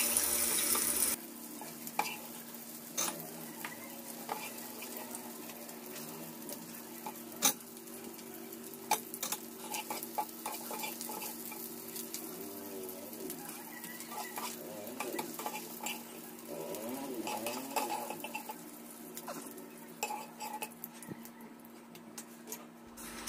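Fish fillets frying in a pan give a steady, close sizzle through the whole stretch, with occasional clinks and stirring sounds on top and no talking.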